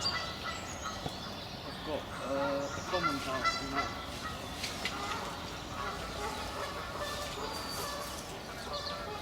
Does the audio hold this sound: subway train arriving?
no